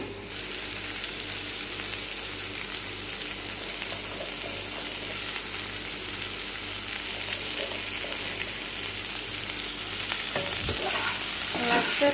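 Carrots and potatoes fry in a pan with a steady sizzle and occasional stirring scrapes, close and continuous, with no talking.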